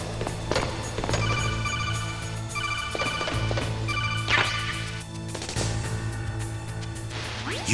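In the Metal Gear Solid video game, a codec call rings as repeated electronic tones over a low game hum, with soft clicks and footstep-like taps scattered throughout.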